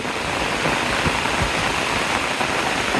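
Heavy rain pours steadily in a dense, unbroken hiss, with no voices and only a few faint drips or knocks standing out.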